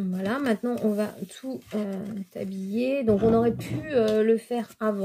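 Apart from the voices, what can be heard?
No distinct noise like a dog, phone or traffic.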